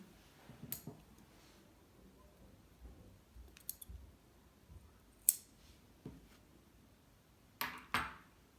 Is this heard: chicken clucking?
no